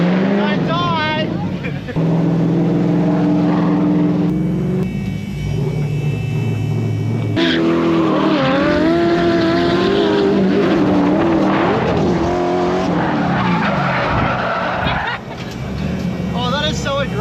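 Drift car at Drift the Downs, engine revving hard and screaming through gear changes with rumbling and tire squeal on the track, heard loud and close from inside the car.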